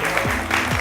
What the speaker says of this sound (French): Je vous demande d'applaudir Johanna.